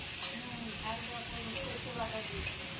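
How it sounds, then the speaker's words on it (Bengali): Potatoes for a meat curry fry in a pan, giving a steady sizzle and hiss with sharp spits and pops every second or so, up close. "এদিকে মাংসের আলু ভাজছে"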